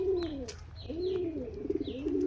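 Domestic pigeons bought at a market coo close by, with several repeated throaty, rolling coos coming in a loose rhythm, one after another, with no talk.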